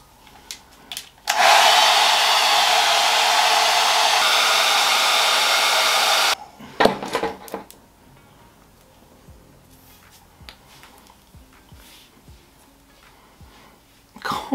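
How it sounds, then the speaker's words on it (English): A hair dryer blow-drying hair at home runs loud and steady for about five seconds, then clicks off, leaving faint handling rustles and brief soft noises. "Salon blow dry at home."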